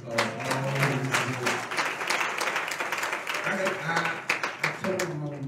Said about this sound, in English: I think y'all deserve one big round of applause.